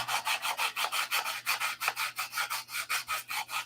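Wood being sanded by hand in steady back-and-forth strokes, about four rasping passes per second, close and fairly quiet, with no voices.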